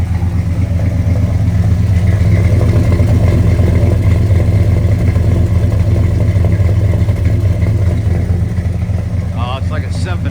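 Exhaust from the rear of a 1963 Pontiac Catalina with a big-block engine rumbles loudly and steadily at close range. It holds a deep, even idle throughout.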